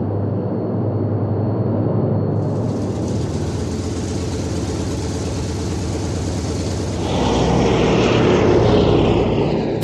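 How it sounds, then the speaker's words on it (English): A piston-engine propeller airliner of the early post-war era drones steadily and loudly throughout, its broad engine roar brightening and swelling toward the end as it passes close. "Practically all airliners of the first post-war generation were equipped with piston engines."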